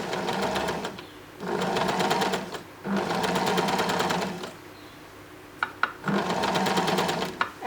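An overlocking sewing machine stitches a dress being converted into a tunic, running in loud bursts of rapid, even stitching separated by brief pauses, close and with no talking.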